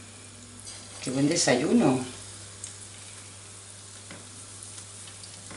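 Torrijas, bread dipped in egg after soaking in milk and anise, fry in hot oil in a pan, a soft, steady sizzle that a brief spoken remark interrupts before the sizzle carries on alone.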